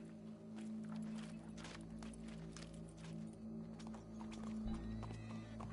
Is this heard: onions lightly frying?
no